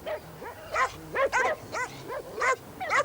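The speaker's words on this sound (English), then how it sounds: "I've never heard so many dogs." Several dogs barking in quick succession, short repeated yaps and woofs overlapping near and mid-distance, with no talking.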